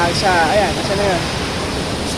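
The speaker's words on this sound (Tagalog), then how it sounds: "Sa rumaragas ang tubig" The Lipit River in Pangasinan rushes in a dense, steady roar of flowing water, close and loud, while a voice speaks briefly over it.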